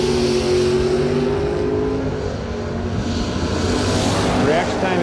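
A drag race launch of an '88 Mustang and a Chevy II, with loud engines roaring at the start and a rising revving surge toward the end, under an announcer's voice.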